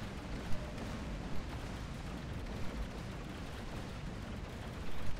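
Gunfire rattles in a space combat video game as ships open fire, a dense steady din broken by a few sharper bursts, fairly faint and without speech.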